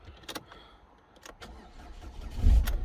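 A Ford Courier with a flat battery, run from a jump pack, cranking with a few clicks and brief turnovers before the engine catches and settles into a close, low running rumble.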